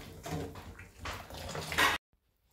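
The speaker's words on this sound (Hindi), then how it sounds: "मैंने अब थोड़ा सा इसमें ठंडा पानी डालने जा रही हूँ" Cold water is poured into Kashmiri tea in a pot, a splashing, gurgling pour that swells and fades over about two seconds before cutting off abruptly into silence.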